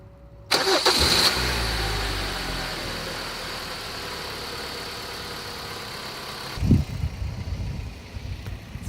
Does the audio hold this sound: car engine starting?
yes